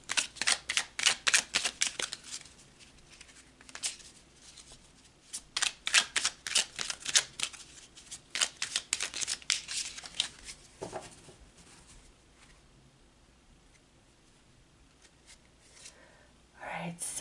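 Tarot cards being shuffled by hand in rapid riffling bursts, crisp and close, followed by a pause with only faint rustling and a brief soft voice near the end.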